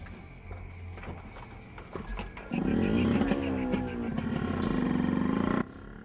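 A motorcycle engine revs up and rolls along a road in Bulacan, a moderately loud steady drone after a quieter start, with faint background sounds.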